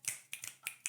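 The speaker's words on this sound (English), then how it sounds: "Finger snaps for that." Five crisp finger snaps in an irregular rhythm, close and clear, with no voices over them.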